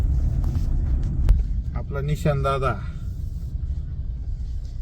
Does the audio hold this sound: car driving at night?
yes